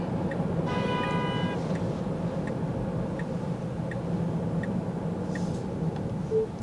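A single car horn honks briefly somewhere in traffic outside, heard from inside a moving car over a steady road and engine rumble, with faint ticking clicks at intervals.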